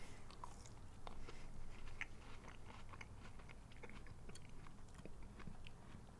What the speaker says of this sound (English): And I'm about to bite it.